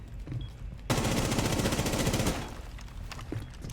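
In a Rainbow Six Siege match, one loud, sustained burst of automatic gunfire lasts about a second and a half, with quieter game ambience before and after it.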